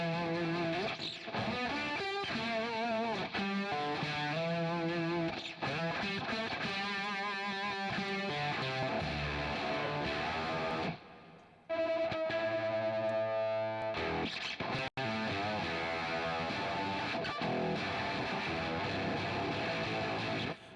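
Electric guitar run through octave fuzz with a phaser sweeping the tone, heavily distorted chords and riffs ringing out, dropping briefly to near silence mid-way before charging back in at steady volume, with no voice over it.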